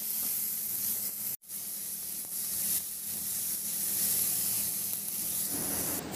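Tomatoes and pork liempo stirred together in a hot pan give off a steady, close sizzle with a soft hiss, broken by one brief gap near the start.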